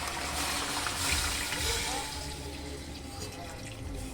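Water is poured into a pot of boiled chicken for stew, a continuous close splashing and gurgling pour lasting about four seconds at moderate loudness.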